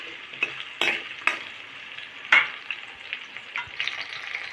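Onions and curry leaves sautéing in a pan for a small-onion tamarind kuzhambu, a steady close sizzle punctuated by a few sharp clinks and scrapes of a stirring spoon, with no talking.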